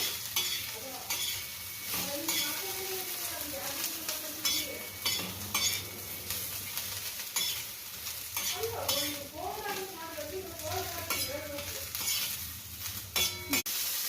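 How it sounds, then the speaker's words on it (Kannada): Garlic fries in a generous amount of oil in a pan, giving a steady close sizzle broken by clinking and scraping stirs of a utensil, with faint tonal sounds in the background. "ಹುರ್ಕೋಬೇಕು ನೋಡ್ರಿ, ಅದ್ರ ಸಲುವಾಗಿ ಎಣ್ಣೆ ಜಾಸ್ತಿ ಹಾಕೋಬೇಕಾಗ್ತೈತಿ"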